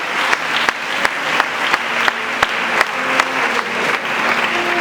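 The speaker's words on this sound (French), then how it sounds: "Acclamez-vous." A church congregation claps together during a worship service, steady applause with a few louder individual claps standing out, loud and close, with no speech over it.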